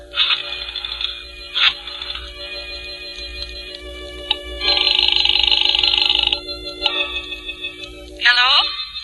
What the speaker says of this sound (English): I dialed her number.